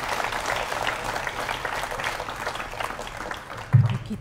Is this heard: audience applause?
yes